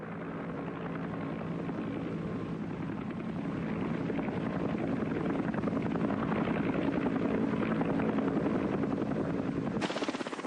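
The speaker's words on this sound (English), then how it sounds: "a wounded man could expect to be picked up by medevac helicopter in less than half an hour" Medevac helicopter in Vietnam War footage, its rotor chop a steady low thrum that grows slightly louder and closer, heard alone with no talk.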